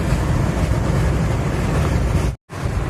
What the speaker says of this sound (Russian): Ветер шумит.